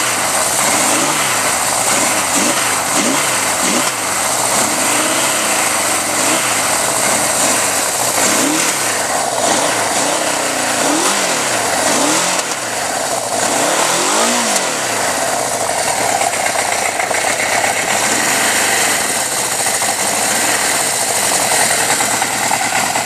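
A 1979 Suzuki GS750L motorcycle idles after a cold start, its engine loud and close with a continuous rumble and repeated rising-and-falling surges as the revs wander throughout.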